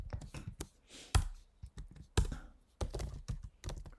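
Typing on a computer keyboard during a programming session, irregular bursts of close, crisp key clicks with a few louder thumps of heavier keystrokes and short pauses between runs, no speech.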